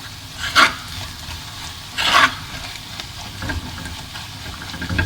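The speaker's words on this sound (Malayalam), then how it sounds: "അപ്പോൾ ആദ്യം നമുക്ക് മഞ്ഞൾപ്പൊടി മല്ലിപ്പൊടി ചേർക്കാം. അതൊന്ന് വഴറ്റാം." Turmeric and coriander powder sauté over low heat in a pan for Kerala duck mappas, with a soft continuous sizzle and two brief louder scraping stirs, close up and without speech.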